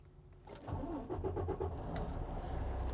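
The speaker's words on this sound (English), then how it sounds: "Now I'm gonna crank the truck" A commercial truck's engine cranks and catches, then settles into a steady running rumble. It is fairly quiet, with no talking over it.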